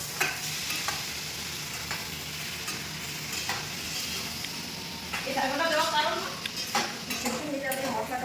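Kohlrabi vegetables frying in a pan for a fish curry, a steady close sizzle with scraping stirs throughout that grows louder and busier toward the end; no voices.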